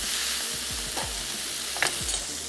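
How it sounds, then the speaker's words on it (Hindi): A pasta roll filling mixture with red chillies sautés in a pan, crackling and sizzling steadily while a spoon stirs it with a few soft scraping knocks, close by. "बस थोड़ा सा सौते करते हैं"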